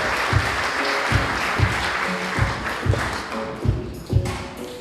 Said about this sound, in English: Let's give a warm round of applause for Dr. Raygor.